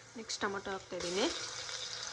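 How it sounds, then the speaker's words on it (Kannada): Tomatoes go into a pan already frying ginger-garlic paste for chicken soup. A brief voice comes first, then a bright, close sizzle flares up and keeps crackling steadily. "ನೆಕ್ಸ್ಟ್ ಟೊಮೊಟೊ ಹಾಕ್ತಾಯಿದ್ದೀನಿ."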